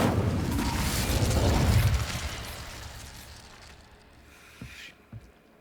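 In the video game Hogwarts Legacy, casting the Incendio fire spell sets off a loud whooshing burst of flame that fades over a few seconds, followed by two short faint thumps.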